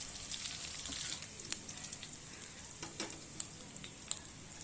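Grated ginger and garlic sauté for vegetable fried rice, a soft, fairly quiet sizzle with a few light spatters and utensil clicks.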